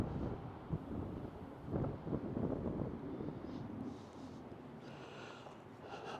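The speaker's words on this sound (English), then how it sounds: "it's just too windy." Strong mountain wind gusting against the microphone near a high Colorado cornice, heavy low rumbling buffets that swell and ease irregularly, loud and close, with no voices.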